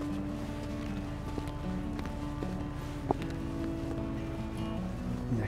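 At a small harbourside fair in North Berwick, with fishing boats nearby, a generator runs in the background as a steady, droning hum with a faint low clatter and no talk over it.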